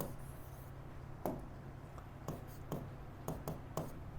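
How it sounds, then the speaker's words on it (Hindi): Chalk or marker tapping and scratching numbers onto a classroom board, a series of short, quiet, irregular strokes over a low steady room hum, no talking. "अच्छे से लिखते हैं"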